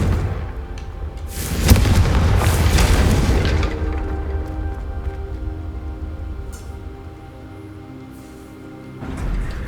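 In the video game Hogwarts Legacy, the Confrigo fire spell hits with a loud, deep boom that rumbles for a couple of seconds and then fades into a low roar. A second swell rises near the end, and no one speaks.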